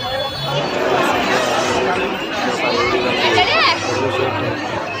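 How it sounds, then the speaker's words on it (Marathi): A large crowd at the Dagdusheth Ganpati pandal in Pune during Ganesh Chaturthi fills the scene with dense, close chatter and babble, with a voice speaking over it. "एवढी पब्लिक एवढी गर्दी जमलेली आहे"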